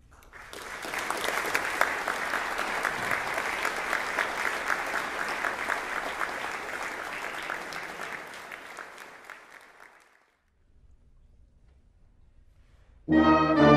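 An audience at a 50th anniversary gathering gives sustained, dense applause for about ten seconds, then it tapers off into near silence before a brief loud burst of another sound at the very end.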